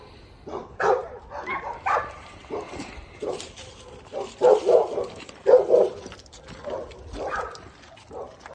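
Dog barking in repeated bursts at a moderate distance, irregular woofs clustered through the scene, with some faint voices mixed in.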